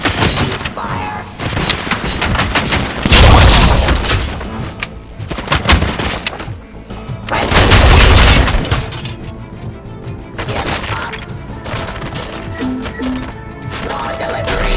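Gunfire and heavy booms in the video game Robocop: Rogue City, dense bursts with two big low-end blasts amid continuous loud action noise, with game dialogue voiced over it.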